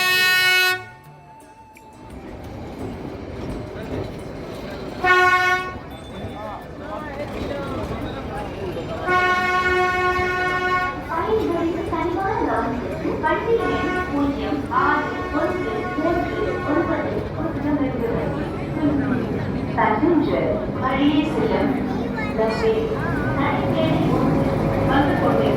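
A train pulls slowly into a station in Ooty, sounding a loud tooting horn several times while its rumble and clatter build steadily, with people talking nearby.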